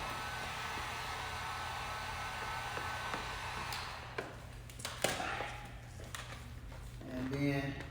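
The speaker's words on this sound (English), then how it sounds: "I'm going to hit this with the heat gun up here at the top" A heat gun blows a steady airy whoosh onto a black and red vehicle wrap stripe, joined by taps and peeling noises in the second half and someone speaking briefly near the end.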